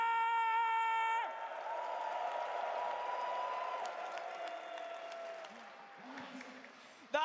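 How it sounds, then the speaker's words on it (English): A large arena crowd at the Dota 2 International grand finals applauds and cheers for both teams in a sustained wash of clapping, following a fading tone and carrying on under scattered shouts. "Can we please put our hands together for both of these incredible teams one more"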